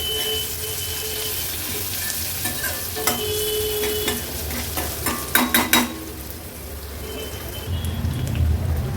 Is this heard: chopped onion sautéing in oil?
yes